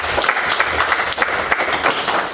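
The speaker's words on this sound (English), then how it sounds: "You can clap for yourself." Audience applause at a community-led monitoring regional dialogue meeting in the Busoga region, a dense, steady patter of many hands clapping at fairly close range, continuing throughout with no talk over it.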